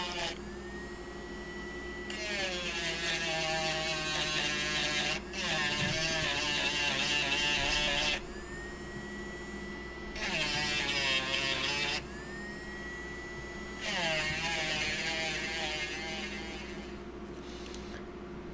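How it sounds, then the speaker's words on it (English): Rotary barrel sander whining in several bursts of a few seconds each, separated by short pauses, as it smooths jagged jeweler's-saw edges on the back of a metal build piece; the high buzzing pitch rises and falls with each pass. "I'm going to use the barrel sander on the back side to smooth up those jagged edges from the jeweler's saw"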